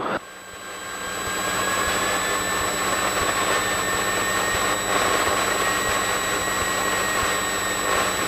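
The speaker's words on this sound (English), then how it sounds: "So let's taxi up and then we'll take off." Piper Cherokee 180 light aircraft engine idling and taxiing, a steady loud propeller drone with a whining tonal hum running unbroken and close throughout, no talk.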